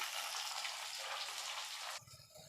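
Shallots frying in hot oil with garlic, curry leaves and green chilli for a drumstick-leaf kuzhambu, giving a dense, steady sizzle close by that stops abruptly near the end.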